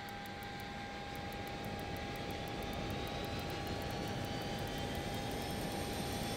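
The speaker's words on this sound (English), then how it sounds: "we'll start an engine then" Learjet 35A engine running in the FlysimWare flight simulator, a steady whining jet hum with a broad rushing roar underneath, constant and fairly faint, with no talk.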